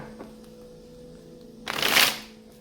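Tarot cards are shuffled in a single riffle, a brief dense crackle of cards close up after a quiet stretch.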